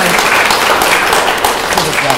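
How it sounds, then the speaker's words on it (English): An audience at a literary talk claps for the speakers; brief, dense applause holds steady, with faint voices murmuring underneath. "Let's give them a round of applause."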